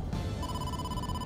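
Incoming-call phone ring in the video game AI: The Somnium Files, a steady electronic ringing tone that holds loud and alone over a dense game soundscape, with no talk.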